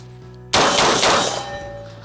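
A single loud carbine gunshot cracks after a quiet moment, followed by a rumbling echo that slowly fades.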